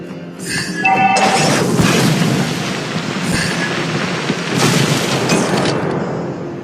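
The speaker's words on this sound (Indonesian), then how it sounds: "Your team destroyed a turret." A turret destroyed in a MOBA video game, a loud sustained crashing rumble with layered game effects lasting several seconds, prominent and close.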